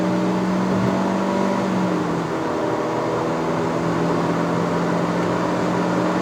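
2022 Proton Persona 1.6 CVT accelerating at full throttle from 0 to 100 km/h, a steady engine drone and whir heard from inside the cabin, continuous and fairly loud without a break.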